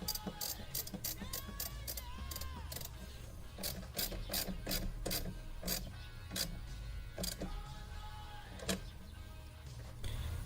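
Ratchet tightens the battery connection on a Jeep Wrangler, a series of quick close clicking bursts in an irregular rhythm with brief pauses, moderately quiet and with no talking.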